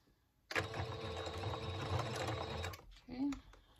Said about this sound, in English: Okay, so I'm just going to slow my machine down